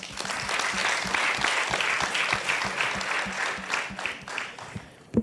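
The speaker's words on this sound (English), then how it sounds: "Can we give all the teams the loudest applause that we can think of?" A crowd applauds the teams at a youth TVET competition with steady, energetic clapping that carries through and tapers slightly near the end.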